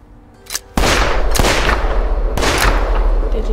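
Gunshots in the horror video game The Quarry. A faint early shot is followed by a sharp, loud blast, with more shots echoing out over a booming, reverberant background.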